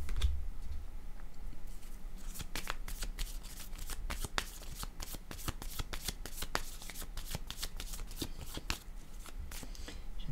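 Tarot cards are handled and shuffled close by in a steady run of crisp riffling clicks and flicks that continues throughout, with no talking.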